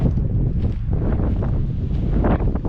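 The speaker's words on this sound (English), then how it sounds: "It is a windy day, so I'm not going to pitch my tent." Strong wind buffets the microphone at an open campsite, a loud, low, continuous roar with gusting swells and no voices.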